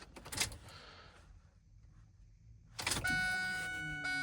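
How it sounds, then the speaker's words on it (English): A Ford 7.3L diesel's fuel pump primes with a steady electric whir and hum after a brief click, running continuously near the end while the key cycles on. "I can hear the fuel pump turning on."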